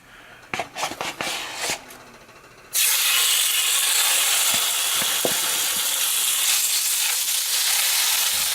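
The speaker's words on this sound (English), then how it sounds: "Add 1 teaspoon olive oil and salmon, skin side up, to hot pan." Salmon laid skin side up into a hot non-stick pan with olive oil: after a few clicking handling sounds, a loud, steady sizzle starts suddenly and carries on evenly, with an occasional light tap and no talk.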